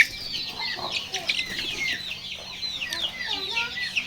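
Chicks at a Bangladeshi poultry farm selling day-old chicks wholesale make a dense, continuous chorus of high peeping chirps that overlap steadily throughout, close and fairly loud.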